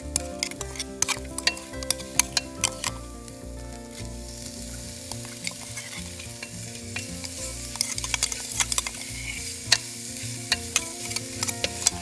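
Crushed green chillies sauté with onions in a pan for a chicken dish, a steady soft sizzle broken by scraping stirs and light clicks of a spoon against the pan.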